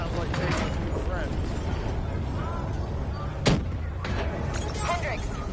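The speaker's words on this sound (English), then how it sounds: "we have multiple explosions across the facility" Dense battle noise in a Black Ops 3 facility: continuous rumbling blasts and gunfire with one sharp nearby explosion crack midway, the whole bed loud and chaotic.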